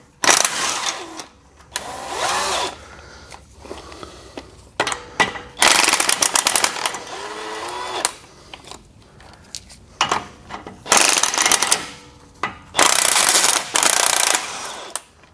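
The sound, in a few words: ratchet wrench removing 18 mm steering stabilizer bolts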